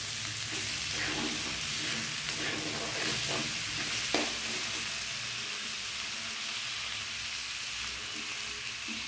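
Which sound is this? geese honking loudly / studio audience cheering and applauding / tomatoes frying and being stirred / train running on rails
tomatoes frying and being stirred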